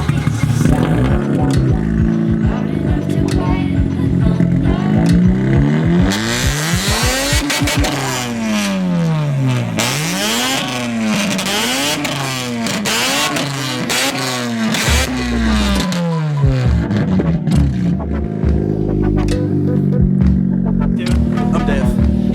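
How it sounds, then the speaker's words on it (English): A loud Mazda RX8 at a car meet revs hard again and again, its engine pitch sweeping up and down in a rapid series of rising and falling wails, close and dominant, with voices nearby. "We about to hear the RX8."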